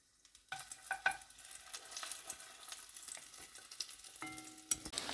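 Oil sizzles and crackles steadily in a pan as breaded meat-stuffed bagels fry, with a few light clinks and scrapes of a utensil near the end.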